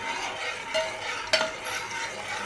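A spoon scrapes and swirls steadily through a thickening mango sharbat mixture in a pan on the stove, close up, with a couple of sharper scrapes against the metal.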